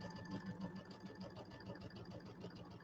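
Sewing machine stitching pieces of a quilted table topper, a steady fast mechanical whir with a rhythmic pulsing motor hum, quiet and continuous throughout.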